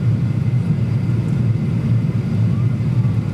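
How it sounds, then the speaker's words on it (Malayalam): A steady, low engine drone fills the whole stretch, a constant rumbling hum with no breaks, heard from inside an airliner in flight crossing from sea to land. "കടലിന് മുകളിൽ നിന്നും വിമാനം കരഭൂമിയുടെ മേലേക്ക് പ്രവേശിക്കുകയാണ്"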